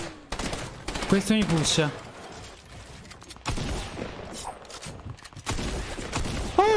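Bursts of rapid gunfire aimed at the player in a competitive shooter game, clattering in dense volleys with brief gaps, as someone talks briefly over the first burst.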